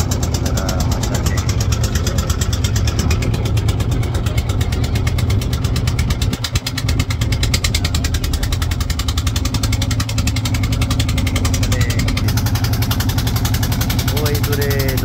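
A motor boat's engine drones steadily and loudly on the Padma river near the bridge, with indistinct voices mixed into the constant rumble throughout.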